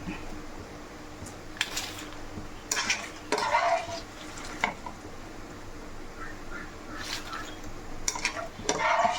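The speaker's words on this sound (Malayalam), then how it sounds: "ഇപ്പം നമ്മുടെ മുളകൊക്കെ മൂത്തിട്ടുണ്ട് മുളകും കറിവേപ്പിലും ഒക്കെ നമുക്കങ്ങ് എണ്ണയൊന്ന് നിന്ന് കോരിയെടുക്കാം" Red chilies and curry leaves fry in hot oil with a steady low sizzle, while a spoon stirs and scrapes against the pan in occasional clattering bursts, close by and without talk.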